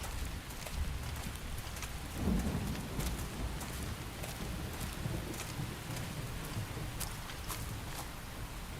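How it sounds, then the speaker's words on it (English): Rain and thunder in Xenoblade Chronicles X, a steady dense wash of rainfall with a low thunder rumble, constant and even throughout. "The rain's starting to let up, just in time for sunrise."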